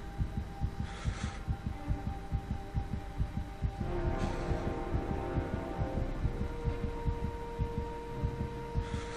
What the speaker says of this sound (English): I don't know if you can hear the heartbeat